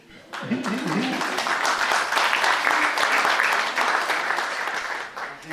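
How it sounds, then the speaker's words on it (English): A crowd applauds with steady, dense clapping that swells and holds for several seconds before tapering off. "Applause."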